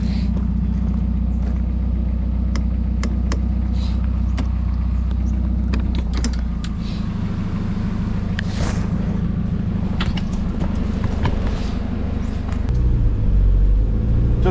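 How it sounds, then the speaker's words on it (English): A Datsun B110 coupe on a test drive in Thailand, its engine rumbling steadily from inside the car with a low drone that shifts pitch near the end, plus small clicks and rattles over the top and no talking. "head out on the test drive in this cool Datsun B110 coupe"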